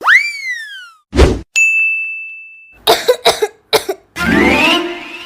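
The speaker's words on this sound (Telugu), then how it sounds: "దగ్గు బాగా ఎక్కువైపోయింది" A woman coughs in a short burst of several harsh hacks, framed by comic boing and ding sound effects and followed by a longer rough, breathy sound.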